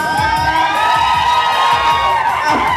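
A crowd cheering and shouting loudly and continuously, with high-pitched children's voices prominent in the roar.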